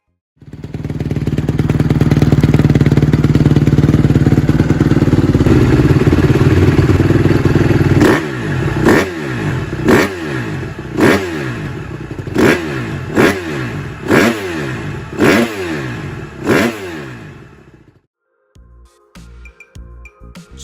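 A Honda CRF150R dirt bike engine roars at sustained high revs, then drops into a string of sharp repeated throttle blips with clattering and thumps in between, close and loud, before cutting out.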